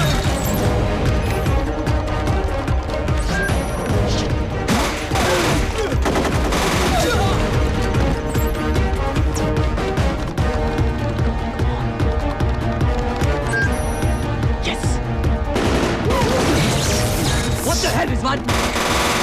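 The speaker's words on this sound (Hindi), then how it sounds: "रिजवान, मुझे गोली चलाने किसने सिखाई?" Gunfire in an action scene from the film Mission Istanbul during a security breach at an office building, with dense bursts of automatic shots and crashes layered over loud music and shouting, continuous throughout.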